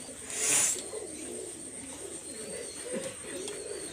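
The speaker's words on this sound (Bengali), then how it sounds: "এখানে আছে একটা মহীশূর কবুতর নর।" Male Mysore pigeons cooing softly, low rolling coos repeating through the whole stretch, with a brief breathy rustle near the start and no voices.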